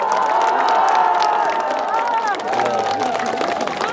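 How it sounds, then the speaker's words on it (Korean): Cheering crowd at an outdoor political campaign rally in Sejong greeting Han Dong-hoon, a loud continuous hubbub of clapping and voices under a steady music bed, with an announcer's voice partly audible over the noise. "한동훈 총괄선대위원장님을"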